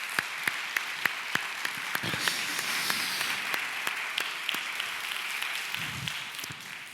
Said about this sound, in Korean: 우리 용사들에게 우리 큰 박수로 한번 격려하고 축복하겠습니다